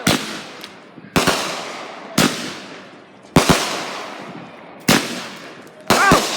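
Fourth of July fireworks burst outdoors in six loud, sharp bangs spaced about a second apart, each one trailing off in a crackling decay, with a brief voice between them.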